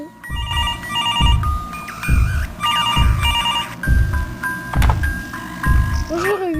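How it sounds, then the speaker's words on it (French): A telephone rings over and over in the video game Mr Hopps Playhouse, each ring evenly spaced in a steady rhythm, loud and close against a low background hum. "Le téléphone il sonne."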